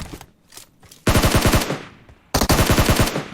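Automatic gunfire in PUBG Mobile, with two long rapid bursts of loud, close shots separated by a short pause and preceded by a few fainter, scattered shots.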